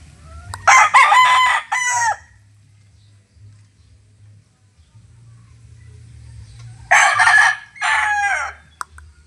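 A Maclean Hatch broodstag gamecock crows loudly twice, each full cock-a-doodle-doo close by, separated by quiet with faint low background hum.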